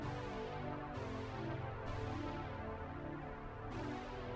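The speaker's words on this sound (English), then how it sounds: "I also have a different brass synth" A sustained brass synth plays chords with new stabs roughly every second, each bright attack mellowing as it holds, steady and alone.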